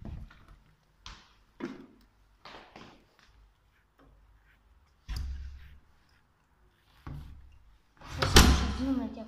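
A door gives a few scattered clicks and knocks, with people talking between them and a louder clatter near the end.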